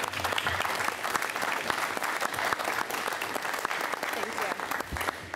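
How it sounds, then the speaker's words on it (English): An audience at a school board meeting gives students a round of applause: dense, steady clapping that fills the room and stays even throughout, with a few voices mixed in. "I would love to give these students a round of applause."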